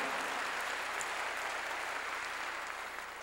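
A church congregation claps during a sermon, heard as a dense, even hiss of many hands from a distance, steady and fairly faint with no voices over it.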